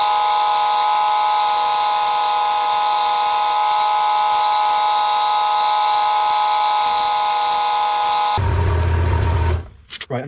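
A wooden coffee tamper spins on a wood lathe while being sanded, giving a steady, even mechanical whine that holds for about eight seconds before shifting to a rougher rumble and winding down.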